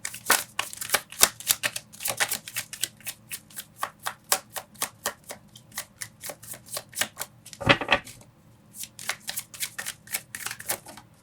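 Tarot cards being riffled and shuffled by hand in quick repeated bursts of crisp flicks, close and fairly quiet, with a brief louder rustle partway through and no talking.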